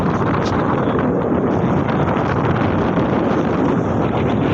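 Steady wind rushes across the microphone on the Gurupriya bridge, a loud, constant broadband roar with no breaks and no voices throughout.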